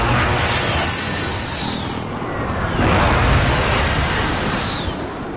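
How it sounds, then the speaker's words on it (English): Heavy rumbling explosions from a precision airstrike in Call of Duty Modern Warfare, a dense, loud barrage of booms and bursts rolling continuously, swelling and fading over several seconds. "Be advised, friendly precision airstrike inbound."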